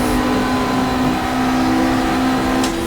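A 1995 super touring race car, including a Volvo, drones past at Lakeside circuit, its engine a loud, steady high-pitched whine held at speed, with a faint extra burst near the end.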